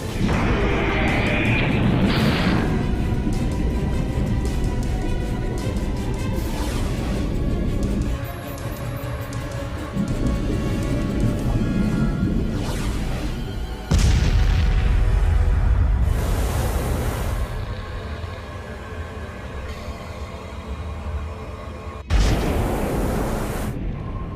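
In a giant-creature action thriller, a weapon is fired at a target and deep booming explosions burst over a loud, continuous rumbling soundtrack, with sharp impacts standing out partway through and again near the end.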